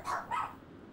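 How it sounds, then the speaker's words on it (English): Two short, sharp barks from dogs in a home, close by and fairly loud, with quiet room noise after them. "don't mind my dogs"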